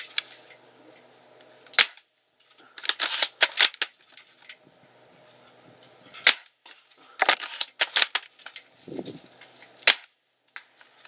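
A Well L96 airsoft sniper rifle fires at a range, a series of sharp, snappy clicks and cracks coming in clusters with short quiet gaps, close and fairly loud.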